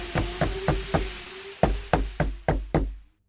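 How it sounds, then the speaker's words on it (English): A knock at a door on a stormy night: nine firm, evenly spaced raps, the first four quicker, then a short pause and five more, loud and close, with a faint hum beneath and silence after. "Suddenly, somebody knocks at the door."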